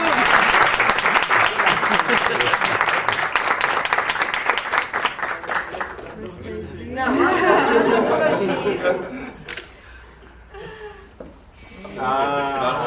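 Warm audience applause closes an interview, a dense, steady clapping for about six seconds that then thins out into chatter, chuckles and talking voices.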